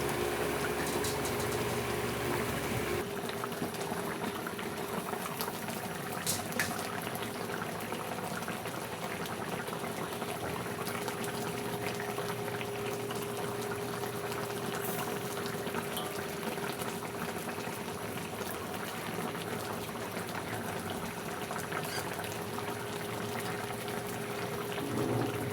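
Pompano in coconut milk simmers at a steady boil in a pot, a continuous close bubbling and gurgling with no talking.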